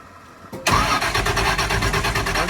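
A car engine on a cold start catches abruptly after a quiet moment, then runs loudly with a steady pulsing idle that stays close and prominent.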